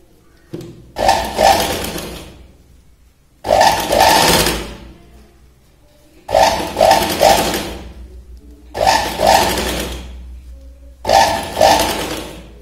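A sewing machine stitches cloth for a princess-cut blouse in five short, loud bursts of about a second each, separated by quiet pauses. The motor's whir sits close and clear.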